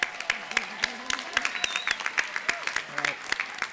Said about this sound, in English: How about one more round of applause for our outstanding students?